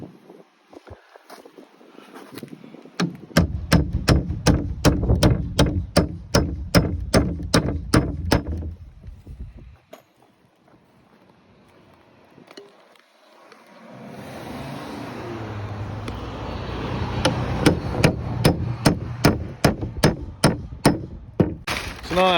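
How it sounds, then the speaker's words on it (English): Hammer nailing OSB sheathing onto a light wood-framed exterior wall, bursts of sharp rapid strikes in quick rhythmic runs, a pause, then another series of blows, close and loud over outdoor wind noise. "So now here we're going to be nailing in the OSB."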